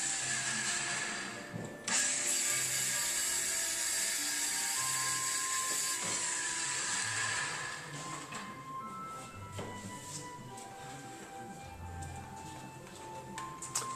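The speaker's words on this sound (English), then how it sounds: "he uses his cordless circular saw and just makes that cut" A cordless circular saw cuts a 4-inch toe kick notch into a wooden kitchen cabinet panel, giving a steady, loud whining buzz for about eight seconds that then eases to a lower, softer run with some clatter near the end.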